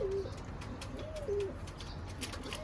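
Pigeons on a balcony give soft low coos in short repeated phrases, near and clear over steady outdoor background noise, with faint chirps mixed in.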